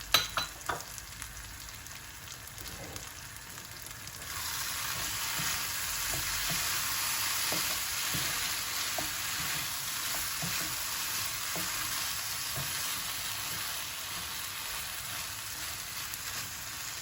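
Prawn cashew fry sizzling in a pan as coriander is stirred in, a few light knocks at first, then a loud, even, continuous frying hiss that lasts to the end.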